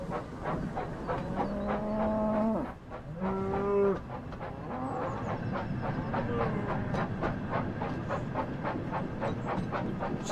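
Cows moo in the Thomas & Friends Wonders of Sodor video game, a few drawn-out lowing calls over a steady rumbling train-and-music background, fairly loud and close.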